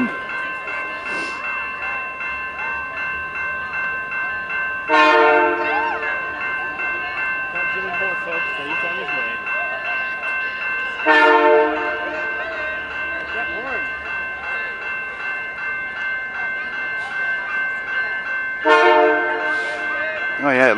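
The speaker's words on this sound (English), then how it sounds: "It's the same train except a different locomotive." CP Holiday Christmas Train in Montreal, Quebec, rumbling steadily past while its locomotive sounds a loud multi-tone horn in three long blasts spaced several seconds apart, close by, with voices faintly audible.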